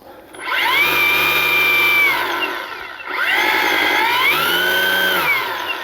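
Battery-powered Ego commercial string trimmer revving up from idle, holding a steady high whine, dipping briefly, then spinning up again; loud and close with no talking.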